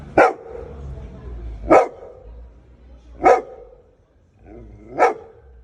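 Four sharp dog barks spaced evenly about every second and a half, close and loud, with quiet between them.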